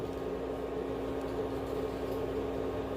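Tomato puree simmering in a pan with salt and vinegar mixed in, a steady low bubbling hiss that holds even and continuous throughout, with no voices.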